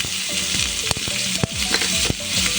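Chopped onions frying in a little oil with bay leaf and garam masala, a loud steady sizzle with a few sharp scrapes as a spatula stirs them around the pan.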